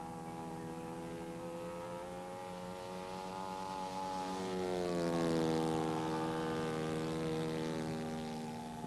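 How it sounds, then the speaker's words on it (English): An RC model airplane makes a low flyby. Its propeller engine drones steadily, then swells louder and higher as it passes close, and its pitch drops as it fades away. "we're going to bring her down for a low flyby for the camera here"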